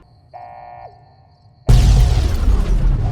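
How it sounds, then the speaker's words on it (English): A huge explosion goes off in the video game Fallout: New Vegas, a sudden loud blast that follows a short electronic beep and then rumbles on with dense debris noise. "a huge explosion gets set off and the place gets swarmed with the NCR"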